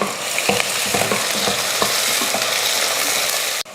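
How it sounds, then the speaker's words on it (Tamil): Onions, green chillies and whole spices (cardamom, cinnamon, cloves, bay leaves) sizzle and fry steadily in hot oil, with repeated stirring scrapes and clinks through the clip, loud and close, ending with a sharp knock. "வெங்காயம் பார்த்திங்கன்னா நல்லா பொன்னிறமாக வதங்கிடுச்சு"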